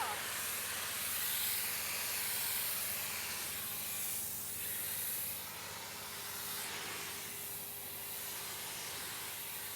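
A tractor PTO-driven pressure washer with a power washer option sprays in a steady, loud hiss that dips partway through, with a low engine hum underneath.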